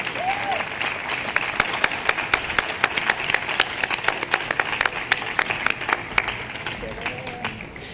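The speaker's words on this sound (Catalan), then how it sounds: "podem també aplaudir-les ja a les dues" Audience applause at a public panel talk on women, a steady patter of many hands clapping close by that runs the full length, with a faint voice briefly audible beneath it.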